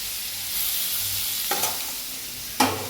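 Cowpea pods for a spicy chavali bhaji sizzle and get stirred in a pan, a steady frying hiss with a couple of sharp scraping stirs, close up and without talk.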